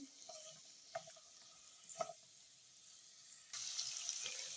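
Carrots stir-fried in a pan for Kabuli pulao, a soft steady sizzle with a few distinct spoon clinks against the pot, the frying hiss growing louder and brighter toward the end.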